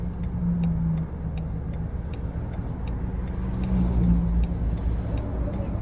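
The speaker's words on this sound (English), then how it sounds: "It's rush hour right now, so this is I guess the busiest the roads will get all day" Busy weekday-morning rush-hour road traffic in Thailand, with cars, buses and trucks passing steadily nearby, a continuous dense engine rumble that swells slightly toward the end.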